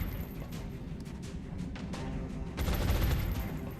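Sustained suppression gunfire in the XCOM Long War tactical game, a dense continuous rattle of shots that swells louder near the end, alone with no talking.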